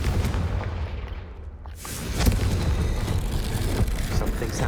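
A Confringo blasting spell goes off in the Hogwarts Legacy video game, a loud burst with a booming, crackling tail that sustains a dense rumble for several seconds.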